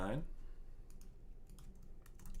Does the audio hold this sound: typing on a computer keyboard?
yes